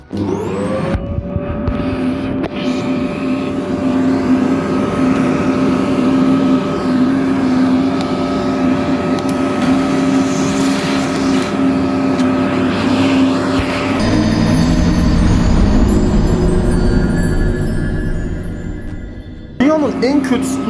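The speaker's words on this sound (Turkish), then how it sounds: "Dünyanın en kötü süpürgesi olabilir bu arada." A vacuum cleaner cleaning a gaming computer case whines steadily at close range, its motor pitch shifting partway through before cutting off near the end.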